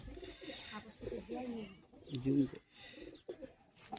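A female Madrasi high-flyer pigeon coos softly and close by in a few low, throaty bursts, with quiet talk in the background.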